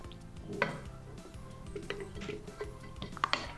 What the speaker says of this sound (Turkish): Pancarımı da yedikten sonra kavanoza dizme işlemine devam ediyorum.